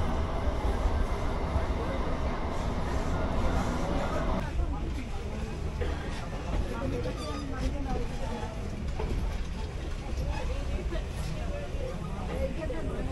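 A local passenger train heads toward Naihati Junction in West Bengal, its continuous rumble and rattle filling the carriage while passengers chatter in the background.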